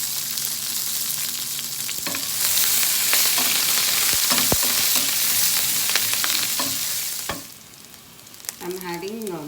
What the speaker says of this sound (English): Now we will saute this.